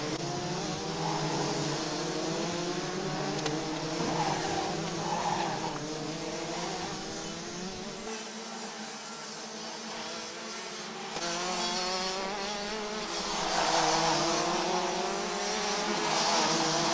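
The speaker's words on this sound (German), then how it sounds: "die Piloten hintereinander hier die ähnlich gleiche Linie fahren" Rotax DD2 racing karts at a national kart meeting in Wittgenborn run past in a steady line, their engines buzzing loudly and continuously with rising and falling pitch as one follows another, with tire noise and no talk.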